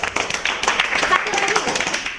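Students in an Indonesian classroom lesson clap together in a short, fairly close burst of uneven hand claps, mixed with voices.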